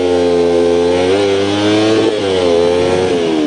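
A Kawasaki Ninja 250 motorcycle held at high revs near 10,000 rpm as the clutch is feathered from a stop, a loud close buzzing engine note that dips and rises while pulling away.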